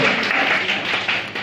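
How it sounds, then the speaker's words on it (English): Audience applause at a live comedy headline set in Newton Abbot, a steady wash of clapping from a crowd filling the room as a volunteer returns to her seat, continuous and fairly loud with no break. "Give Cat a round of applause as she sits down."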